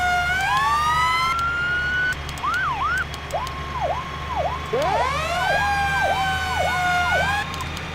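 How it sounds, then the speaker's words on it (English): Emergency vehicle sirens from a Farming Simulator fire-and-rescue mod sound loudly and up close, switching between a long rising wail and quick yelping sweeps, with no one talking over them. "I think that's the sirens I'm going to use on this whole pack"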